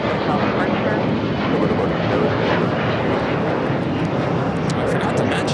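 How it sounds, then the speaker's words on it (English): Embraer E-Jet airliner taking off on runway 25 right at Los Angeles International Airport, a loud continuous engine roar holding steady throughout, with a voice talking over it. "E-Jet's now taking off on runway 25 right."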